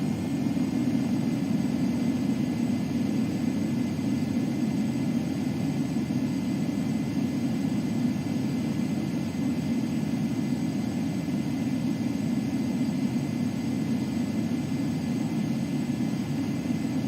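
Jet aircraft on landing approach to a runway in the Ace Combat 7 video game, a steady, loud engine drone with a low rumble that holds unchanged throughout and has no voices over it.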